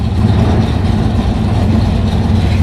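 A neighbor's Chevy Nova engine runs with a steady, loud low rumble and a constant idling tone throughout, with no talking.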